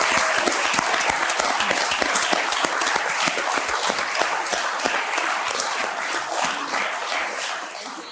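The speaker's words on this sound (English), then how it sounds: "Can you guys give one more round of applause to Stephen and to Sally for being here tonight?" Loud, dense audience applause with many distinct hand claps, sustained and close, fading slightly toward the end with no voices over it.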